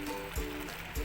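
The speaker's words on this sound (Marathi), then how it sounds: "तर आपण त्यात गरम पाणी ओतून घेऊ" Hot water pours into mutton in a pressure cooker for a village-style black masala mutton, a brief, steady splashing gush heard up close with no talk.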